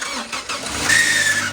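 A wrecked Copart salvage car's engine cranks and catches, then settles into a steady running note with a thin high whine over it, heard close and loud throughout a short burst.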